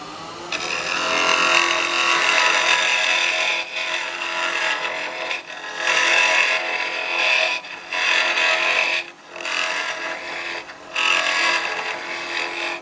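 Carbide chisels cutting a small wooden vase on a lathe, a steady close scraping and rasping that runs in long passes broken by short pauses when the tool lifts off the spinning wood.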